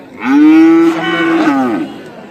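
A bull at a cattle market gives one long, loud, close moo that rises and then tails off.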